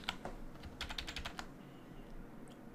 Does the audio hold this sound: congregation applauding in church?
no